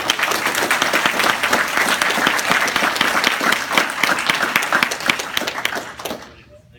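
At a Brazilian jiu-jitsu black belt promotion in an Arlington, Texas gym, the crowd claps briskly and continuously, close and lively, before the applause thins and fades out at the end.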